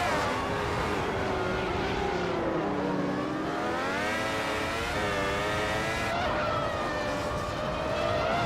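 Racing cars, a classic 1995 McLaren among them, pull away from the start at Croft in a racing video game, with loud rising engine whine as several cars accelerate and shift gears together.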